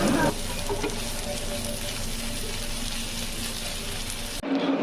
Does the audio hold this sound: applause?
no